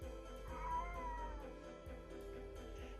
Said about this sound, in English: And I have a kitty coming in.